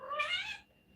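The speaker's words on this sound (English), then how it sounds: "That's my cat." A house cat lets out a single drawn-out meow, close and fairly clear, that fades after about half a second into near silence.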